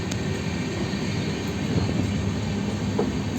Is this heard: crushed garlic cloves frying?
no